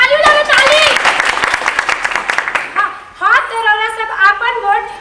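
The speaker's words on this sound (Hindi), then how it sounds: "अरे ताली बजाओ, ताली।" An audience claps during a village panchayat scene in a stage play. A brisk burst of clapping fills the first few seconds, mixed with loud voices, and then the clapping fades as the voices continue.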